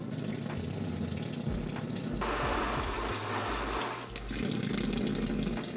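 Water runs from a tap into a bathtub fitted inside a camper, a steady loud gushing splash that briefly shifts in tone as the flow changes, with no talk over it.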